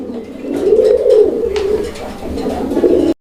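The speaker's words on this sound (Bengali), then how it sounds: "এখানে আরও এক জোড়া কবুতরের কালেকশন রয়েছে" Pigeons coo at a pigeon seller's stall, a close, loud run of low throaty coos rising and falling in waves, with faint background clatter.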